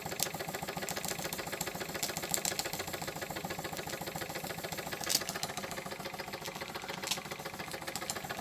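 A Wilesco D24 toy steam engine runs steadily, its rapid, even mechanical chuffing and ticking continuous and close, with a couple of brief brighter hisses along the way.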